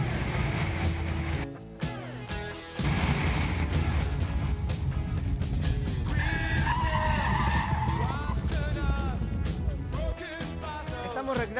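A Honda Accord swerving at about 100 km/h on a road course, tires skidding and squealing loudly in long screeching bursts over engine noise, with someone speaking throughout.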